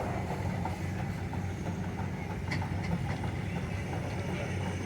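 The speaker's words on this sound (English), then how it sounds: "Next up, we have a Russell steam engine built in Massillon," Russell steam engine built in 1920 in Massillon, Ohio, a 12-ton machine rolling past in an outdoor parade, giving a steady low rumbling chug with faint clanks over continuous background noise.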